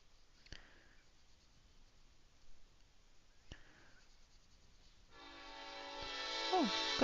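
A train blows its horn nearby: after faint ticks and distant rumble, a loud, sustained horn blast swells in and holds steady to the end.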